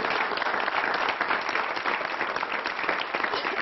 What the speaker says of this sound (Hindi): जोरदार तालियां दमदार बनारसी जी के लिए।